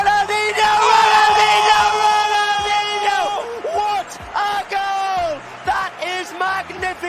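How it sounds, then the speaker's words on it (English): A stadium crowd roars and cheers loudly for Ronaldinho's goal in Barcelona's 3-0 win over Real Madrid in 2005, with sustained whoops and yells carrying throughout and a commentator's voice over the noise. "there are even Madrid fans applauding"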